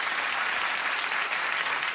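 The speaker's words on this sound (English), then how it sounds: "It's real natural applause for Pierre." A late-night show studio audience applauds, a brief, even burst of dense clapping with no voices over it.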